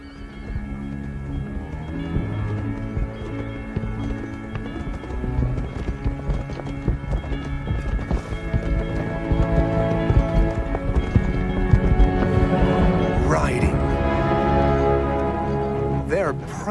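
Hooves clip-clop steadily beneath a dense layer of music, with a horse whinnying near the end; the galloping rhythm runs throughout.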